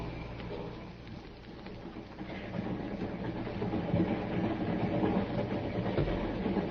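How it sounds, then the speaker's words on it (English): A running train in an old CBS radio drama, a steady rumbling, rattling clatter of wheels on rails that grows somewhat louder midway, heard alone with no voices. "The train was a few minutes out of Glendale."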